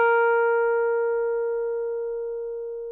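A single sustained pure tuning note with clean overtones, starting at once and slowly fading over a few seconds, alone without voices.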